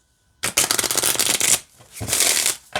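A small deck of playing cards riffle-shuffled up close, a loud fluttering burst, a brief pause, then a second shuffle.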